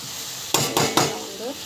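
Ingredients for a dosa side dish sautéing in a pan, a soft background sizzle broken by three quick scraping stirs of a utensil against the pan.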